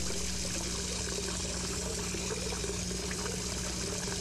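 Water pouring steadily into a container in the Hello Neighbor video game, a continuous trickling stream held at an even level throughout, with no talk over it.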